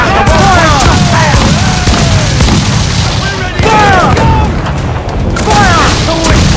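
Ship cannons firing in Assassin's Creed IV Black Flag, a dense, loud barrage of booming blasts that runs almost without pause, with shouting voices heard over the gunfire.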